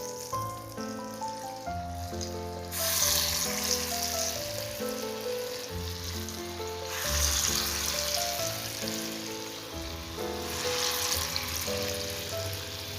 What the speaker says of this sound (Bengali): তেলটা গরম হয়ে এসেছে, এবার বড়াগুলো আস্তে আস্তে এর মধ্যে ছেড়ে দেবো।